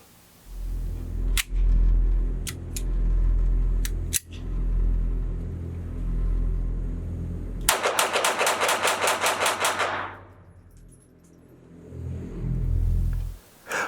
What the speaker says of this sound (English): I'm going to see if I can shoot this thing kind of fast.